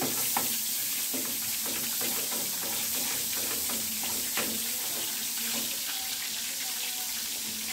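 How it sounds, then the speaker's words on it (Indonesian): Chopped garlic fries in hot melted margarine in a pan, giving a steady, close sizzle with small crackles throughout and no talking. "Tunggu bawang putihnya sampai kecoklatan."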